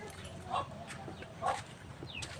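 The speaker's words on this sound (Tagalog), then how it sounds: "Yung manok andun nakapasok yung manok sa kabila." A chicken has wandered into a rural yard near cacao trees. It gives a few soft, scattered clucks, faint and somewhat distant over a quiet outdoor background.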